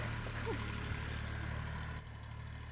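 A tractor idles in a village garden where blueberry saplings are being planted: a steady, low, fairly faint engine hum that drops slightly in level partway through.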